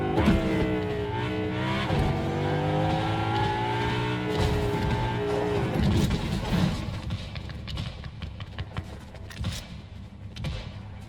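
A car driving in the Fortnite video game, its engine droning steadily throughout under a busy mix of game noise, with a brief revving swell in the first half and the sound thinning out toward the end.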